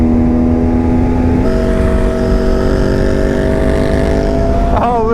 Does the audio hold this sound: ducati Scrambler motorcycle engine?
yes